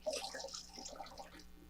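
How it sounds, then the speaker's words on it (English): A wet wash mitt is squeezed out by hand during a rinseless car wash with McKee's 37 N-914, water trickling and splashing softly in a brief, quiet spurt with no talking. "So you wrung out most of it."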